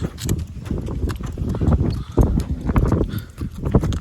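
Horse hooves clopping on hard ground at an uneven walking pace, close by, with a few thuds and some background noise between steps.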